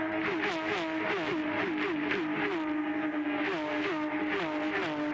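Porsche Carrera race cars at speed through a turn at Phillip Island circuit, a loud, continuous engine howl with repeated rising and falling pitch sweeps as the drivers shift and run flat out, steady throughout.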